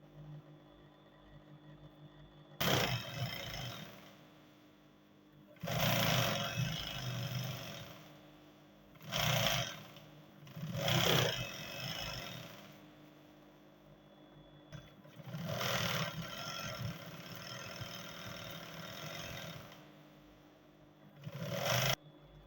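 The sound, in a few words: sewing machine sewing elastic on cargo pants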